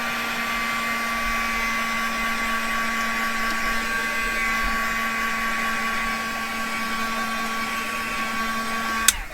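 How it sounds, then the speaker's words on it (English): Heat tool or hair dryer blowing steadily on a handmade craft card, a loud continuous whirring hum with a whine that runs unbroken for about nine seconds and cuts off at the end, with no voices. "now let's just dry this up a little"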